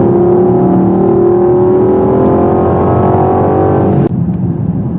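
A 2021 Mercedes-Benz GLE 63s AMG biturbo engine accelerates in sport mode, a loud rising roar climbing steadily in pitch before an abrupt upshift cut near the end.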